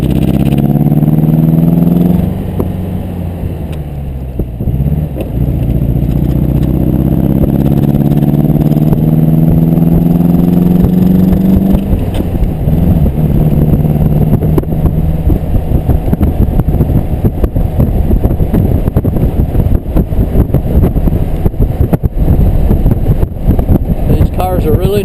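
1952 MG TD, a small light roadster, pulling through second gear on the road, its engine a loud continuous drone rising in pitch with wind buffeting the microphone and a voice talking over it.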